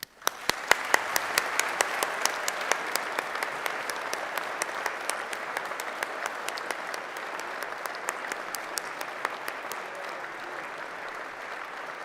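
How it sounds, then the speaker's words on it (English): Steady applause from a graduation ceremony audience, with sharp individual claps standing out over a dense, even wash of clapping that holds throughout. "I am sure you would like to join me in giving them a warm round of applause"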